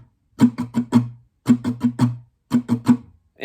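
Acoustic guitar strumming the pattern for a song without optional strums, three groups of four crisp strums separated by short pauses, close and alone.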